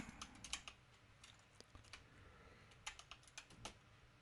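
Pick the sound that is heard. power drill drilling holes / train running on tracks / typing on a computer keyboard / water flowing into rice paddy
typing on a computer keyboard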